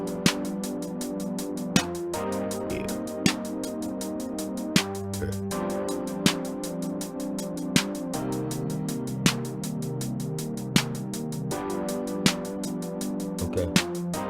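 A hip-hop beat built in FL Studio loops steadily, with rapid ticking hi-hats over a sustained melodic chord bed and a sharp accent hit every bar or so, loud and continuous without vocals.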